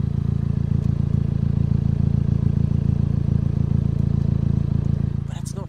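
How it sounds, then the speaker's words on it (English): A Volkswagen Eos 2.0 TSI exhaust burbles steadily at idle, a low, rhythmic rumble that stays constant throughout. "there is a slight burble just on idle"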